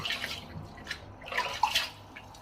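Water splashes and drips in a sink as a face is wetted before shaving, a few soft, close splashes with quiet gaps between them.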